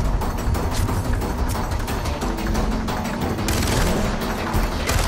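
Loud, dense gunfire aimed at a yeti in the video game Far Cry 4, a rapid unbroken stream of shots with heavy low rumble throughout, no voices.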